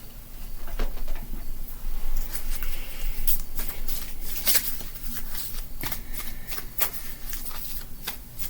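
Oracle cards are shuffled by hand in a run of soft, papery riffles and flicks with a few sharper snaps, close up over a low background hum.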